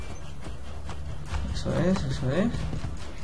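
A horse gallops in the video game Assassin's Creed Brotherhood, its hooves making a rhythmic clip-clop beneath someone talking over the gameplay.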